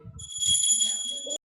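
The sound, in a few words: bell ringing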